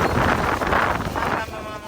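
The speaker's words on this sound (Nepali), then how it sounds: "हावा लागेर यस्तो" Wind buffets the microphone on a windy day at the Gorkha Cup 2025 in Aldershot, UK, with a steady rumbling roar that swells and eases among a chattering Nepali crowd.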